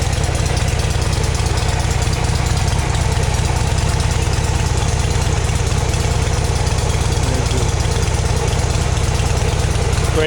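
A 1981 Harley-Davidson Lowrider motorcycle idles steadily and loudly close by with a little choke applied, its engine throbbing in an even, continuous pulse that runs through the whole stretch.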